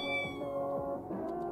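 A cat in The Sims 4 video game meows several times in quick succession, a faint, tonal, slightly plaintive call repeated over a second and a half.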